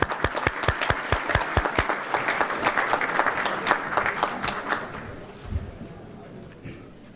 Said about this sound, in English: So I'd like to give him a nice hand of applause, please, brother Muhammad